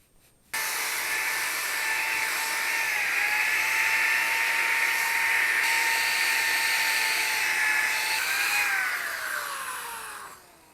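A power sander works a car headlight with 1500 grit sandpaper, a steady high whirring drone that starts abruptly, holds for several seconds at close range, then winds down in pitch as it slows.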